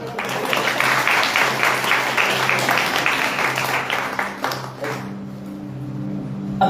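A church congregation claps together in a dense, loud burst of applause that carries for about five seconds and then fades out, with a hum of voices left beneath.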